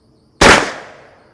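A Henry lever-action .410 shotgun fires a single loud, sharp blast that rings out and decays over about a second, with no other sound around it.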